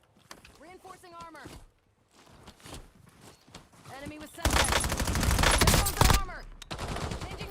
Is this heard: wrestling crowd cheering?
no